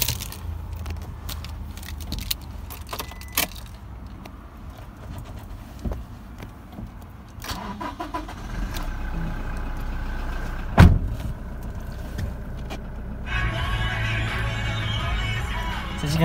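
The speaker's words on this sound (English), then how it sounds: "Let's give a car a quick start." A 2017 Toyota Hilux Workmate single cab is started: clicks and rustling come first, then the engine turns over and settles into a low, steady idle that swells louder toward the end.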